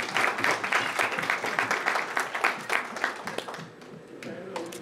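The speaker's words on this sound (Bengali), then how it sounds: "একটি জোরে করতালি প্রিয় ভাইয়ের জন্য।" Audience applause at an award presentation during BanglaRongo 2024, as an appreciation crest is handed over: a dense, steady patter of many hands clapping that thins out and fades near the end.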